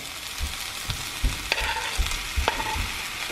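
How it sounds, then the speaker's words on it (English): Mushrooms and sweet red pepper frying in a pan for vegan spaghetti and meatballs: a steady hiss of sizzling with repeated scraping, thudding stir strokes at an even rhythm, and no voices. "so what we're gonna do now is just add our mushrooms"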